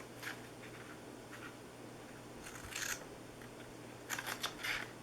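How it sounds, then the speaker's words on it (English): Big scissors cutting paper for a 3D Christmas gift box craft, several short crisp snips in small clusters, close but soft over a faint steady background hum, with no talking. "Then we're going to cut into these. Cut all these at the bottom."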